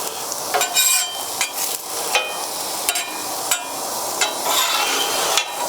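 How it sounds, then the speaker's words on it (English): Cooked rice goes into a hot oiled pan for Hawaiian fried rice, with a soft continuous sizzle broken by repeated sharp scrapes and clacks of a utensil stirring and spreading it. "It's time to put the rice on, so we're just gonna put a little bit more oil down."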